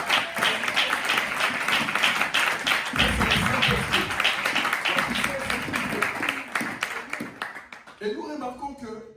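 A church congregation at a French-language sermon claps and cheers in acclamation of the Lord, dense sustained clapping across the clip that thins out near the end.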